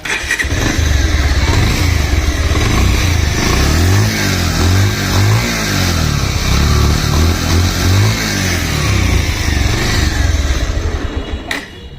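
A second-hand Bajaj Pulsar 150cc motorcycle engine running close by, loud and steady with a throbbing idle and a couple of mild revs rising and settling, no voices over it.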